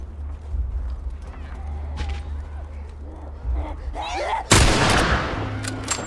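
Gunshots in a German-language audio drama based on The Last of Us: a sharp, loud burst lands near the end over a low rumbling bed, with earlier scattered impacts and some speech.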